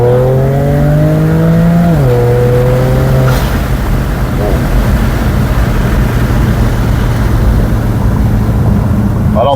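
A warmed-up BMW 335i with the N54 engine, fitted with a modified charge pipe, pulls hard at full throttle in second gear, its loud engine note rising before a sudden shift and then settling into a steady roar, with some talk over it.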